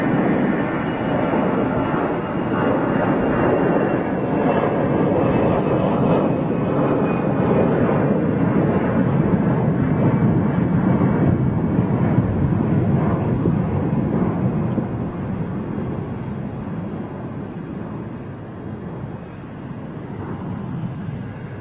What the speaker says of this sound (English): we've got a beautiful old freighter coming in